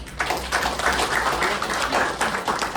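A church congregation claps together during a Sunday service, a steady dense patter of hands at moderate loudness throughout.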